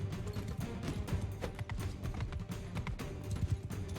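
Rapid rhythmic hoofbeats of a galloping horse in Mount and Blade 2: Bannerlord, steady and mid-level, with game-like thumps and no voices.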